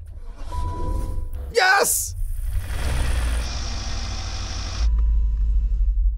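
BMW and Porsche car engines are started and run without oil, a loud rough engine roar and rumble that rises and persists. People shout and talk over it.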